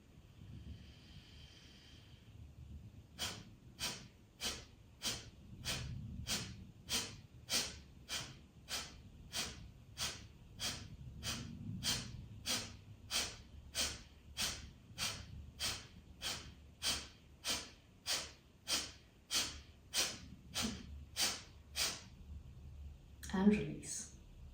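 Nasal breathing practice to clear congestion, with a seated person pulling air sharply through the nostrils: around thirty close, evenly spaced snorting inhales after a quiet start, followed by a short rustle at the end.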